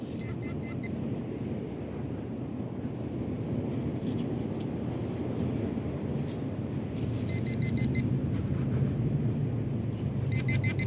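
On Indian Rocks Beach, a metal detector gives short, high electronic beeps in a few brief bursts, over steady wind and surf noise.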